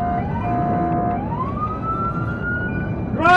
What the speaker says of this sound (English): a police dashcam captured footage of a stolen ambulance.